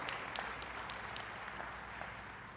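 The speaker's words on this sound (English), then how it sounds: "Clap for yourselves." Audience applause at a keynote speech, a steady wash of many hands clapping together, sustained and fairly even at a moderate distance for a couple of seconds with no voices over it.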